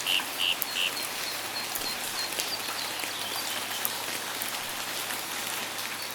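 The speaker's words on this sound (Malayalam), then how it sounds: "ഒരു ദിവസം ഭയങ്കരമായ മഴയായിരുന്നു." Heavy rain sound effect in a Malayalam cartoon, a constant dense hiss of pouring rain, even and loud throughout, with a few short bird chirps near the start and no talking.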